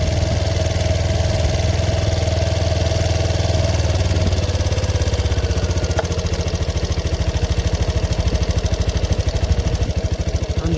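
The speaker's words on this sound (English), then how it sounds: "Now its idle revs are a bit higher." Piaggio Medley 125 scooter from 2016, its engine idling at slightly elevated revs, heard up close as a steady, loud, mechanical hum with a fine rhythmic pulsing and light clatter, and no one speaking.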